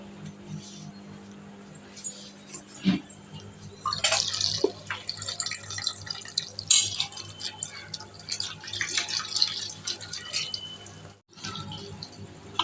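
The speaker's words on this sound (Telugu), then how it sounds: "సో ఫస్ట్ మనం కొత్తిమీరని ఒక 2 టైమ్స్ వాష్ చేసుకోవాలి." Fresh coriander leaves being washed by hand in water in a home kitchen: soft splashes and drips that come and go in irregular bursts, close and fairly quiet, with a steady low hum underneath.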